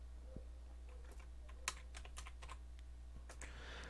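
Quick light keystrokes on a computer keyboard as a file name is typed, scattered clicks in short bursts, very quiet over a steady low electrical hum.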